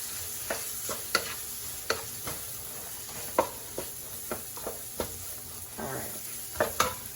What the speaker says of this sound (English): And we just gonna fry these until everything is nice and brown